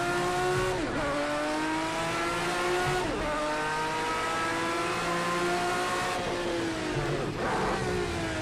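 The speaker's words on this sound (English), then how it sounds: "A little too much on the rev limiter there" Race car engine in Project CARS 2, a Group C car at Algarve, screaming loud and steady near the limiter, with pitch repeatedly climbing then dropping sharply at shifts and lifts around one, three and seven seconds.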